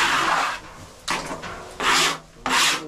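Rough rasping strokes scrape across the surface of an old oil tank, coming in about four separate bursts with short pauses between, close and fairly loud, with no talking.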